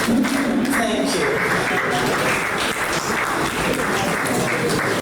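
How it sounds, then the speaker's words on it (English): A crowd applauds at the launch of an EU-funded poverty-fighting project in Abia State, a dense, loud, steady clapping that fills the whole stretch with voices mixed in. "a round of applause"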